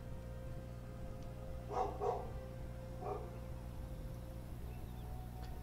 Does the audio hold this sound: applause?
no